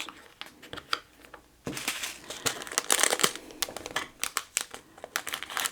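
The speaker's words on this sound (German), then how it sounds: "die Steinchen hier gehen wirklich gut aus der Tüte raus" Diamond painting rhinestones pouring out of a plastic bag, a dense scatter of tiny clicking and crinkling rattles in irregular bursts, close and fairly quiet, with no talking.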